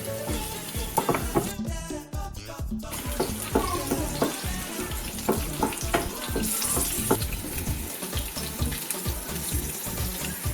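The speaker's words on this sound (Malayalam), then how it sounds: "ചൂടായി കഴിയുമ്പോൾ അതിലേക്ക് നമ്മൾ മിക്സ് ചെയ്ത് വെച്ചിരിക്കുന്ന വെളുത്തുള്ളി ഇട്ട് ഇളക്കാം" Garlic and green chilies frying in hot oil for Kerala-style chicken 65, a dense continuous sizzle with rhythmic spatula stirs and scrapes, close and busy, with a brief water splash partway through.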